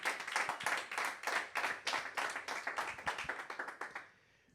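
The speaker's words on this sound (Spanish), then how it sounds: "¿Alguien le puede dar un aplauso al Señor?" A church congregation applauding, a burst of clapping that pulses in a rough rhythm for about four seconds and then quickly fades out, with no voices over it.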